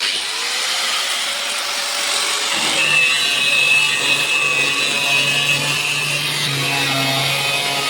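A power saw cuts through wood while a paddy threshing machine is being built, giving a loud, continuous whining buzz with a pitch that rises and shifts partway through the cut, heard close up with no voices.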